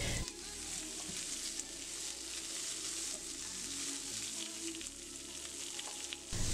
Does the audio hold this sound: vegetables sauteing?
yes